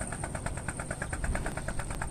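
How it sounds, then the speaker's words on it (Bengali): A cargo trawler's engine just started, chugging at a steady pulsing rhythm with regular knocking beats over a low rumble, moderately distant and without talk. "ওই যে আরেকটা ট্রলার আসতেছে ওই পাশে, এই যে স্টার্ট দিছে মনে হয় মাত্র।"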